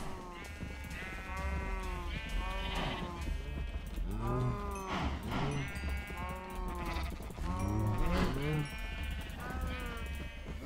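Minecraft cows moo repeatedly in a game, several overlapping drawn-out calls close by and fairly steady in loudness.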